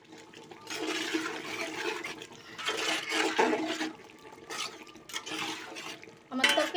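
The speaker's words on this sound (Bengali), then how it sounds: "মাংসটা কষানো হোক" Spicy beef being braised and stirred in a pan, with a continuous scraping, sizzling churn that swells and eases in waves, loud and close, with a sharper clatter at the end.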